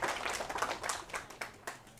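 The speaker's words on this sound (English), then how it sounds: "Again, round of applause for DJ Mooshier." A small class audience claps briefly in a lecture hall at a university database course, scattered hand claps thinning out over two seconds, fairly faint and close.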